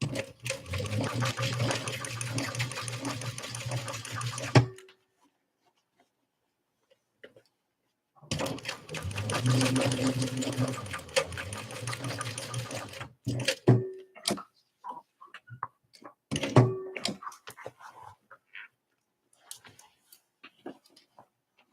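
Sewing machine stitching a tote bag, running in two sustained bursts of steady rapid stitching separated by a pause, followed by short stop-start runs and handling clicks, close and loud.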